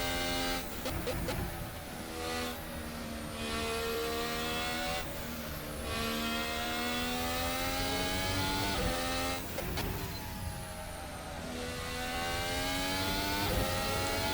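Formula Hybrid 2019 F1 car in a racing sim, a high-pitched hybrid engine screaming through rising gear sweeps, dropping sharply on upshifts and lift-offs before climbing again, steady and close throughout with no talk.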